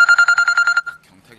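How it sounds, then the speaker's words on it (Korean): Mobile phone ringing with an incoming call during a live broadcast: a loud, close, rapid trilling ringtone of about eight quick pulses that cuts off after under a second, followed by faint background noise. "경탁이한테 전화가 왔네요"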